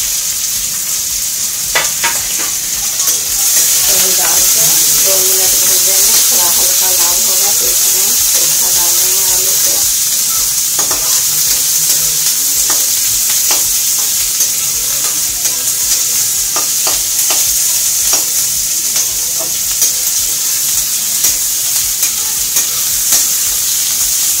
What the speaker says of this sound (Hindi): अब इसमें प्याज डाल देते हैं प्याज लाल होने तक भूनेंगे